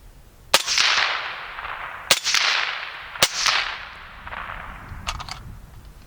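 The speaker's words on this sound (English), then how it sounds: "Let's see how well this does with the suppressor." Three sharp suppressed shots from a .224 Valkyrie rifle fitted with a coyote-hunting silencer, each a loud crack trailing off into a rolling echo, spaced about a second and a half apart, followed by faint clicks.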